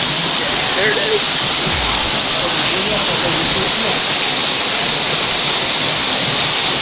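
A waterfall rushes loud and close, a dense steady roar of falling water that fills the whole stretch without a break.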